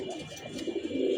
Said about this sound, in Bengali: আসলে কবুতর আছে